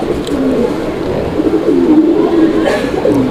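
Crested racer pigeons coo low and steadily at close range, with soft rolling calls repeating throughout and no talking.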